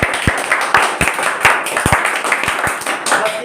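A classroom of coaching students claps for a classmate's correct answer, scattered uneven hand claps in a brief burst that stays close and moderately loud.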